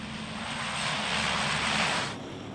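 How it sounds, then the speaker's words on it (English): A Lockheed C-130 Hercules military cargo plane runs its four Allison T56-A-15 turboprop engines in a loud, steady, broadband roar that swells slightly, then drops in intensity near the end, with no voices. "it is also a propeller-driven plane, boasting 4 Allison T-56A-15 turboprop engines"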